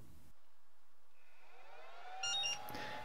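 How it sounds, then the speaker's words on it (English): A short electronic beep from a ToolkitRC M6D AC charger powering on, preceded by a faint rising tone in a quiet room. "We get a nice little beep and a splash screen"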